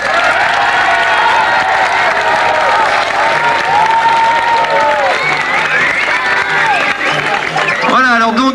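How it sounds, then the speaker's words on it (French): A cabaret evening audience applauding loudly, with sustained dense clapping and some cheering, voices rising over it near the end. "c'est que vous les applaudissiez très très fort"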